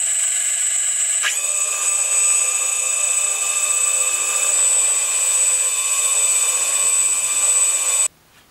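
A hyperloop prototype's levitation unit, a rotating assembly of four magnets spinning above an aluminum surface, gives off a loud, steady high-pitched mechanical whine with a slight rise after a second, running continuously before stopping abruptly.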